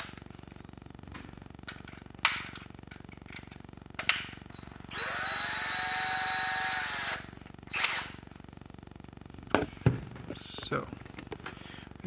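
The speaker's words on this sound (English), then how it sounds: "Just gonna grab this handy drill and file away." A power drill runs steadily for a couple of seconds while filing an O-ring from a TM M870 valve, a high whining buzz, close and fairly loud, framed by scattered clicks and handling knocks before and after.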